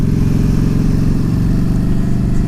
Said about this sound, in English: Got a torquey engine, doesn't have a real high top end, but it will sit on 120 if you want it to.